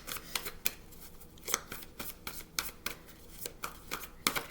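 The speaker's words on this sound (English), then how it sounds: "It's hard to shuffle them with my hands." Heavy card-stock cards are shuffled by hand in a run of crisp, papery riffles and flutters, coming in irregular bursts, close and fairly quiet.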